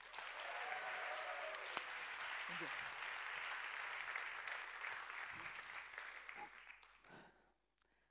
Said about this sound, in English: would you please welcome to stage, with the biggest possible round of applause